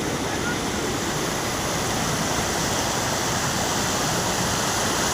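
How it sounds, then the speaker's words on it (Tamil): Jogini waterfall near Manali, with water pouring down the mountainside, makes a steady, loud, unbroken roar of rushing water, close and constant with no other sounds standing out. "தண்ணி நிறையா அப்படியே சூப்பராக தண்ணி மலை மேலேருந்து வந்துருக்கு"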